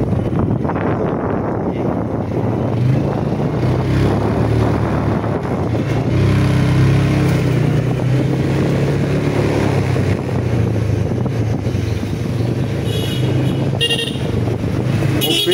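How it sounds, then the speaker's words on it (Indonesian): A car passes on a road through the Petungkriyono forest near Pekalongan, its engine loud and close with short horn toots, under a steady rush of wind. "Mobil."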